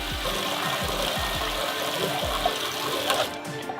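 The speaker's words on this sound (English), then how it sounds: "and then I'm going to run some hot water." Hot tap water runs through a hookah being cleaned, a steady close splashing flow with low gurgling knocks in the first few seconds and no voices.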